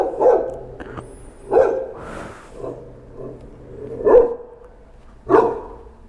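A dog barks four times in separate loud bursts spaced a second or more apart, heard near on a street during a bike delivery run, with low background noise between barks.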